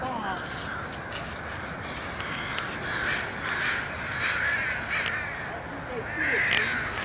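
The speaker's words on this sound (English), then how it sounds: "Raven, isn't that appropriate?" Raven cawing in a cemetery, several harsh caws spaced through the stretch over steady outdoor background noise, with people talking nearby.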